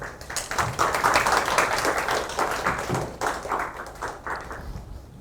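An audience at a food-tech innovation forum applauds after a presentation, with steady, dense clapping from many hands that fades toward the end.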